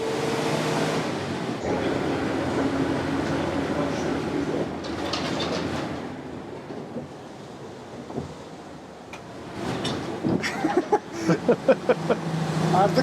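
Ikarus 260 city bus from the 1990s, its diesel engine droning steadily as it drives, with rattles and thumps of the body over the road and a few sharp knocks near the end, people talking faintly beneath.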